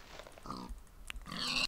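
A Minecraft pig gives a couple of short, nasal grunts, close and fairly soft, with a faint game background and no speech.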